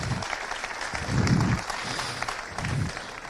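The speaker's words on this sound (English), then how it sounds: "So can I get a round of applause, please?" A crowd at a Minor B All-Ireland championship final applauds steadily for about three seconds, with dense, continuous clapping that swells slightly midway.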